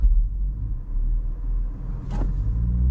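A 2024 BMW X2 in sport driving mode attempting a launch control start produces a steady, loud low engine rumble that holds through the whole stretch, with a brief brighter burst near the end and no surge of acceleration.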